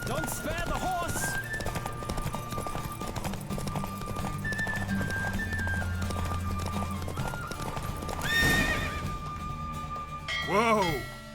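Horse galloping in a race in The Witcher video game, rapid steady hoofbeats over game music, with a neigh rising near the end.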